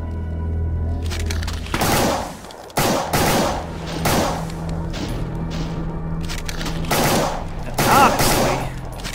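Pistol gunfire in the video game Brutal Doom: repeated loud shots and booming impacts pile up in a dense, chaotic barrage that lasts for several seconds.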